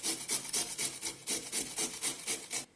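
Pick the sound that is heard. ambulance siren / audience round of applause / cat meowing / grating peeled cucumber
grating peeled cucumber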